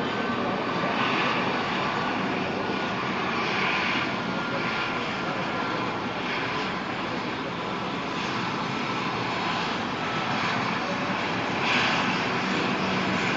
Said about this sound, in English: That's a fighter taking off behind that.